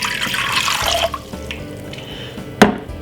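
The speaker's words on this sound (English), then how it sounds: "we're going to pour 2 cups of water inside of a pot" Water pours into a pot for cucumber tea for about a second, splashing and filling, followed by quieter drips and small clinks of the pot, with a sharp knock near the end.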